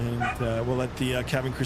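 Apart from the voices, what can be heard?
dog barking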